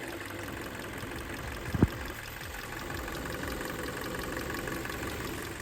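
A 2016 Hyundai Elantra's 1.8 four-cylinder engine idles steadily with a faint knocking tick, carried on a continuous low rumble, broken once by a brief sharp clunk near the start, with no voices.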